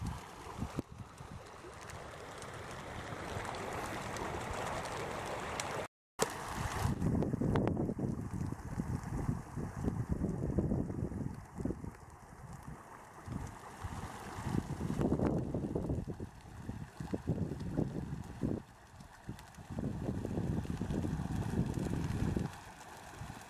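Strong wind roars and buffets the microphone in long gusts beside a spreading grass fire near a river, with rushing outdoor noise that rises and falls; a brief dropout interrupts it early on.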